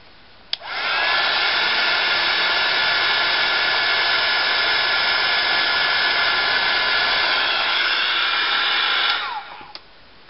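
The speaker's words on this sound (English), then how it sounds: "So I'm just going to dry that." A hair dryer blows on a dye powder mix, switching on abruptly, holding a loud, steady whooshing roar for about eight seconds, then cutting off.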